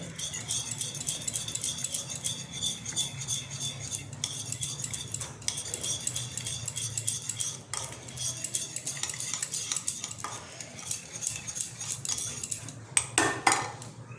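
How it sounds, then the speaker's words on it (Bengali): A spoon mixes dough ingredients in a bowl for a Mathura cake, with baking powder and a pinch of salt. Quick, repeated metallic clinks and scrapes of the spoon against the bowl rattle on steadily, close and clear. "এবারে মেখে ভালো করে মেশাবো।"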